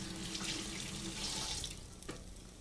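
Asparagus rinsed under a running kitchen tap, a steady close splash of water into a sink that thins out near the end, with no voices.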